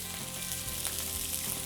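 Sardines grill in a pan with a soft, continuous sizzle and faint crackling, alone and fairly quiet.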